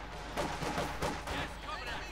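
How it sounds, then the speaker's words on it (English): Mortar fire and explosions in Company of Heroes 2, a World War II strategy game battle between Soviet and German armies, with several loud bursting blasts over a dense background of gunfire. "Quick mortar going on there"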